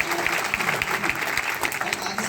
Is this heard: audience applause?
yes